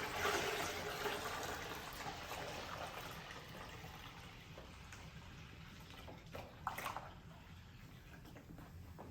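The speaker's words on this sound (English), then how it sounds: "So we're going to add some water" Tap water pours steadily into an ultrasonic cleaner tank with vinegar added, filling it to the fill line. The rushing, trickling flow is close and continuous and eases slightly as the tank fills, with a brief clink near the end.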